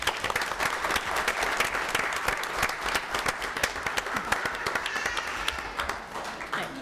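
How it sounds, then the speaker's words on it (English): A crowd at a school board meeting applauds, with dense, steady clapping that holds throughout and tapers slightly at the end. "she is over here clapping away"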